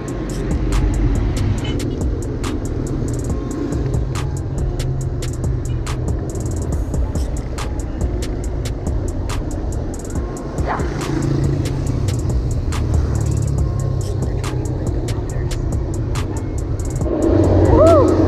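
Steady rumble of highway traffic on a bike ride, cars and motorbikes passing nearby over constant road and wind noise, loud and continuous.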